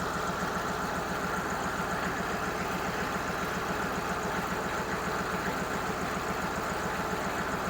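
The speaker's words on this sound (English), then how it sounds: "you'll hear the engine rev up a little bit before it dies" A CUCV 6.2/6.5 diesel engine in an M715 runs steadily while running out of fuel, with a rough, pulsing low rumble and no pronounced rev, continuous and fairly close throughout.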